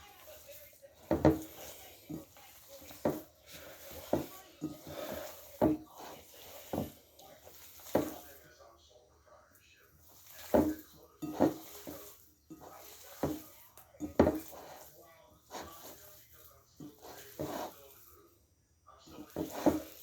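Meat being mixed by hand in a bowl, soft squelching and slapping pulses at an irregular rhythm, close but quiet.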